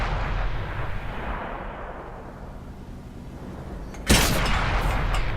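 A heavy cannon fires in a tank combat video game, a single sharp, loud blast that breaks over a low rumble of engine and ambient noise.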